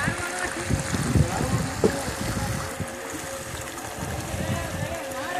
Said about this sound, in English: So here's your lower waterfall